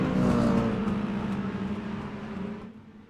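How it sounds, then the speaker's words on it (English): A race car engine in the iRacing video game drones loudly at high revs, a steady close engine tone that gradually fades toward the end. "Philip Scott gets on the loud pedal."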